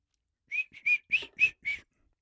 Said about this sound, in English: Damn, I'm whistling, man.